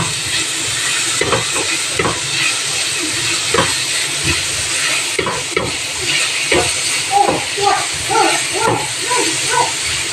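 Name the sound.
onions frying and being stirred for spaghetti sauce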